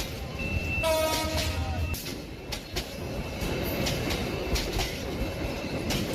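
A passenger train runs past in a cartoon sound effect, a horn blast near the start over a continuous rumble and rhythmic clickety-clack of wheels on rails.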